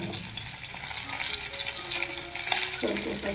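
Garlic sizzles and crackles in hot oil for a village-style gram-greens dish, a steady bright frying hiss with faint tonal clinks and stirring noises layered through it.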